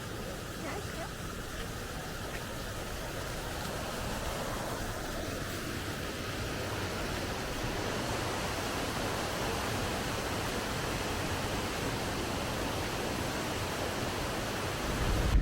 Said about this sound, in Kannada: ಇದು ಹಿರಣ್ಯಕಶಿ ನದಿ, ಇಲ್ಲಿ ನದಿ ಹರಿತಾ ಹೋಗ್ತಾ ಉಂಟು